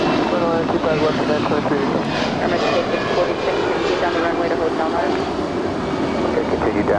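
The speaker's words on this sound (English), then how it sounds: "American 539, Airbus A320-200, 22 years old." A 22-year-old American Airlines Airbus A320-200 at LAX gives a loud continuous jet engine roar nearby, steady throughout, with radio chatter and talk partly mixed in.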